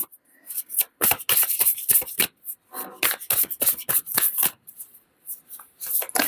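Tarot cards being shuffled and drawn by hand, heard as close, crisp riffling bursts and flicks in an irregular rhythm separated by short pauses.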